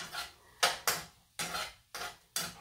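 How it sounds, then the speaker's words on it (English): A spoon scrapes and knocks in a pot of grits in six distinct, evenly spaced strokes of stirring, close and fairly quiet, with no voices. "So I'm stirring slowly and continuously."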